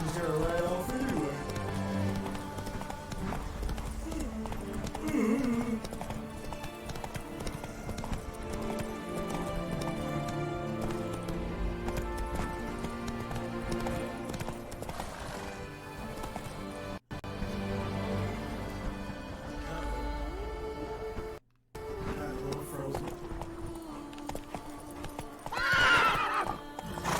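A horse gallops in The Witcher 3 game, steady clip-clop of hooves running under background music, with an occasional whinny and someone talking over parts of the ride.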